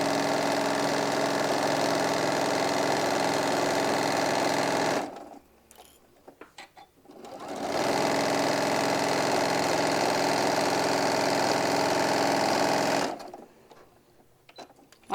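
A sewing machine runs steadily while chain piecing fabric pieces for a hobo bag, two long continuous stitching runs separated by a brief pause with faint handling noise, close and fairly loud.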